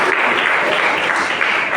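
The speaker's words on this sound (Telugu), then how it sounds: "సంఘ పెద్దలకు, సంఘస్థులకు అందరికీ కూడా ఒకసారి గట్టిగా చప్పట్లు కొడదాం" A church congregation applauds its elders at a Good Friday gathering, dense, steady, loud applause from many hands filling the space without pause.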